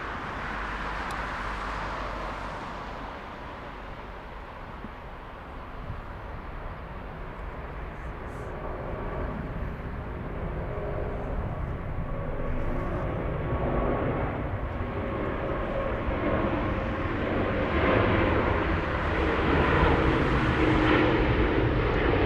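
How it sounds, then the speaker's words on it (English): An Air China Airbus A350 taking off at Frankfurt airport, a broad distant jet roar that swells steadily over twenty seconds, rumbling and hissing with no voices. "Let's go over to the Air China A350 lifting off."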